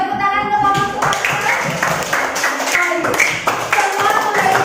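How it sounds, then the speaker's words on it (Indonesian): A classroom of students applauds a student group during a teaching practice session, with dense, steady clapping that fills several seconds. A voice sounds briefly at the start, and a few softer claps follow the main burst. "Tepuk tangan untuk kelompok Suparsa."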